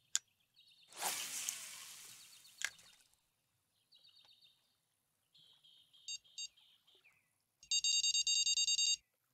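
Electronic bite alarm beeping in the video game Fishing Planet, with scattered short tones and then a loud rapid run of repeated beeps near the end, alone without talk.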